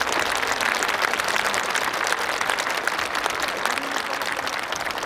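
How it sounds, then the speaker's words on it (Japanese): A large crowd applauds steadily and loudly after a fancy drill display by Japan Air Self-Defense Force cadets at Kumagaya Air Base, with continuous dense clapping throughout. "今一度大きな拍手をお願いいたします。"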